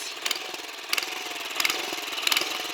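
A 1971 Toro 7/26 snowblower engine idles steadily nearby, with a rough, regular chug and periodic louder clattering pulses about every 0.65 seconds.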